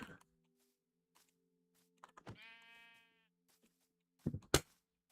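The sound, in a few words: sheep bleating after being punched in Minecraft video game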